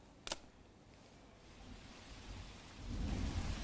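Heavy monsoon rain in Dang falls as a dense, steady hiss that swells into a deeper rumble near the end. One sharp crack comes early, and there are no voices.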